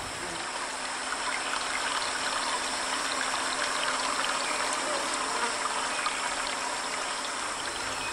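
A stream flowing steadily, with termites crossing over it on a fallen bamboo stem; a continuous, even trickle and rush of water close by, unbroken and alone throughout.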